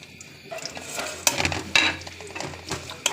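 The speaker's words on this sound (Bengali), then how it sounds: "এখন এটা আমি বেশ কিছুক্ষণ নাড়াচাড়া করব।" Sliced onions with cinnamon, cardamom, cloves and black pepper are stirred in a pan for mutton rezala, a close scraping stir with soft sizzling and a few sharper knocks of the spoon, no talk.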